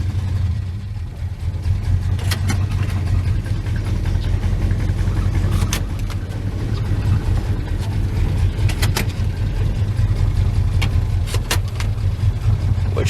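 A 62-year-old Dodge, revived after sitting 20 years and running with no brakes, idles and rumbles steadily as it is driven around a yard, a loud close low engine drone with a few sharp clicks and knocks.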